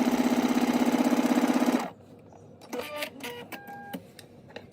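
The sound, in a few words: sewing machine stay stitching bodice front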